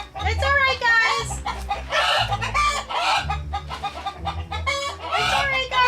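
Backyard chickens in a run cluck and squawk busily up close, with calls overlapping continuously and a person talking among them.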